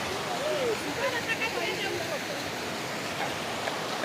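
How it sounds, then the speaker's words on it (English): Waterfall rushing as a steady, dense broadband roar that fills the scene without pause, heard close and loud, with faint whistle-like tones drifting over it. "people that are just coming into this waterfall"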